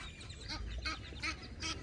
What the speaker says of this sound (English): Oh, look, more geese.